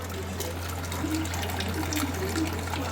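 Tap water running steadily into a container in a home kitchen, a continuous close rushing flow with a constant low hum beneath it and no talk.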